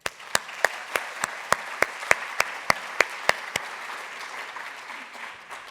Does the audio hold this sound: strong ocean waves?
no